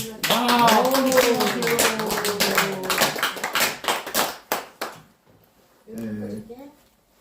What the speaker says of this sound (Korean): 고마운 박수와 또 얼른 쾌유하시라는 박수 한번 보내주실까요?